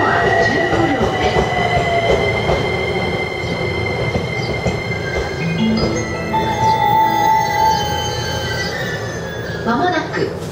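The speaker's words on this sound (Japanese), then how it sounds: "まもなく2番線に快速アクティ東京行きが参ります" An E231 series Rapid Acty train on the Tokaido Line pulls into Nebukawa Station: a loud, close rumble of wheels and motors with sustained high wheel squeal, and a faint announcement underneath.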